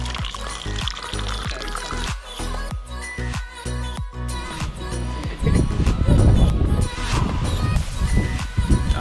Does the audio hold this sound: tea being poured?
yes